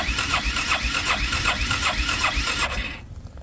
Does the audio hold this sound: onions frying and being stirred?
no